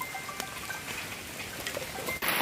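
Rain falling outdoors during a hillside forest mushroom hunt in Thailand, a steady hiss of drops with faint scattered ticks and a louder rush of noise near the end.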